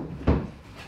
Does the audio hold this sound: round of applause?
no